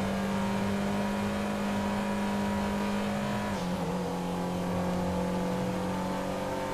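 A Hyundai ix35 in GTA V drives fast, its engine holding a steady loud drone, then shifting pitch briefly midway before settling back into a sustained hum, with no voices.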